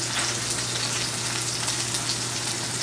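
Deer sausage sizzles steadily in a pan, a dense, even crackle of frying fat holding at a constant level throughout with no voices over it.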